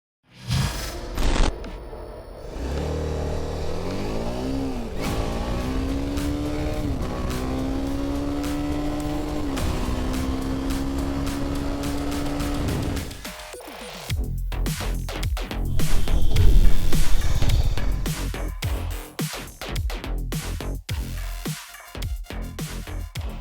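A TVS Apache RR310 motorcycle is ridden hard through a riding-mode test, its engine revving up in rising, sustained pitch sweeps before easing off, then loud rushing passes and wind buffeting follow, with no talk.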